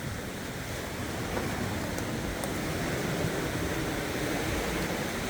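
Ocean surf breaks steadily on Padang Padang beach at Uluwatu, Bali, a dense continuous roar of waves with some wind across the microphone and no voices.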